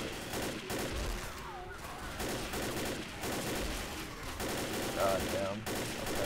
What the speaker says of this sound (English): Gonna shoot at them.